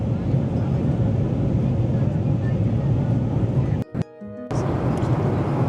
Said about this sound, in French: Là, on est en plein vol.